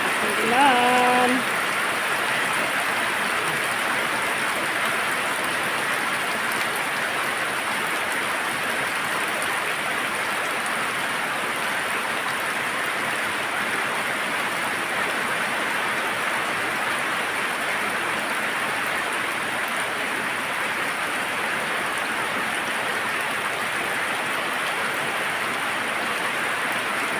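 Heavy downpour pouring down without a break, a dense steady hiss of rain on surfaces, with a brief voice at the very start.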